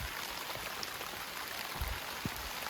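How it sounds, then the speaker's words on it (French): Steady rain falls outdoors in Thailand, a dense, even hiss of drops with a few soft thuds on nearby surfaces, fairly faint and without voices. "Ok, bon, il pleut là."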